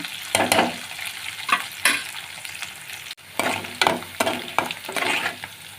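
Onions and tempering spices with curry leaves fry and get stirred in a pan for a coconut curry, with steady sizzling and repeated scraping strokes of a spoon, close and fairly loud with no one speaking.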